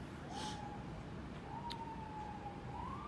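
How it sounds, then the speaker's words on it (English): A siren wails in rising and falling sweeps, moderately loud and somewhat distant, over steady traffic rumble, with a brief sharp sound midway. "And another siren."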